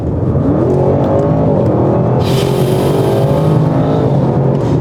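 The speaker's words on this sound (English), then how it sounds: "Just the brutal acceleration. It's just an outright beast, this car." An Audi RS7 Performance engine roars as it accelerates hard, the pitch climbing through the revs, loud and close, with a rushing burst partway through.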